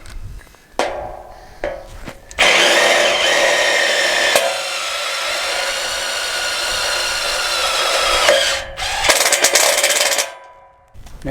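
Power driver sinking Tek screws into a steel frame floor, a loud sustained whine lasting several seconds after a few short bursts, then stopping and restarting briefly near the end; no talking.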